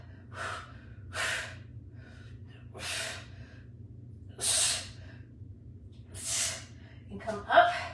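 Heavy breathing during a pressing exercise in a full-body workout, five evenly spaced breathy exhalations roughly every second and a half, close and fairly loud over a low steady hum, ending with a brief noisy rustle.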